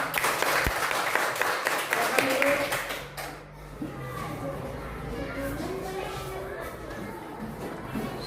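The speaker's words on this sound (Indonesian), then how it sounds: "Sekali lagi tepuk tangan buat kelompok bunga matahari." Applause from a class of students for a group presentation in a school lesson, a burst of many hands clapping that fills the first three seconds, then gives way to room murmur and shuffling.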